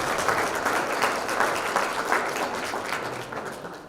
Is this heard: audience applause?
yes